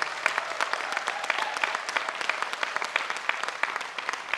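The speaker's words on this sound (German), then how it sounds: "Also, der Applaus geht an euch." A crowd applauds cyclists on a victory stage at the Special Olympics regional games in Bremen, with dense, steady clapping at moderate distance lasting the whole stretch.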